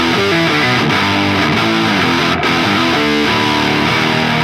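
A thick, fuzzy, heavily distorted guitar tone, layered as a second part, plays a continuous loud riff with a saturated wash of buzz across the whole passage.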